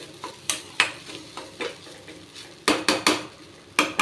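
A spoon stirs capsicum usili sautéing in a metal pan, with sharp clanks and scrapes coming in irregular bursts over a soft sizzle, close and loud.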